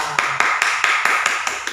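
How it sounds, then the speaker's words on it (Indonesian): Children at Sunday school clap in a rhythmic beat, about nine sharp evenly spaced claps ringing close and loud in a bright room. "beri tepuk tangan yang terbaik bagi Tuhan"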